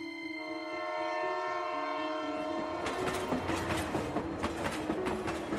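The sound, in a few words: Howrah–Adra Express passenger train running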